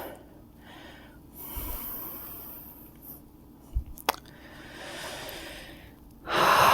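Deep, slow breaths during a prenatal yoga pelvic balance sequence, soft inhales and exhales close by with a couple of sharper sniffs midway and a louder breath swelling at the end, no talking.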